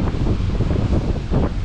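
Strong wind blowing outdoors on a rainy summer trip in Poland buffets the microphone in a loud, continuous roar with gusting surges.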